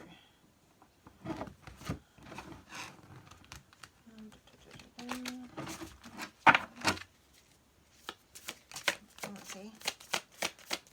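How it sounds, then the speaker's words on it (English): Tarot cards being riffled and shuffled in repeated bursts of crisp flicking and slapping, close up, with brief pauses between rounds and a voice speaking softly in between. "So let's just give it a little bit of a shuffle through."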